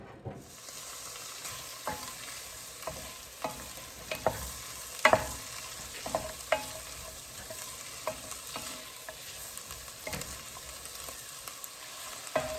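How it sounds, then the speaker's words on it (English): Vegetables and garlic sizzle in a pan for chili, a steady close frying hiss broken by repeated scraping stirs of a utensil against the pan, with no talking. "we're just going to continue to saute this until our vegetables are tender"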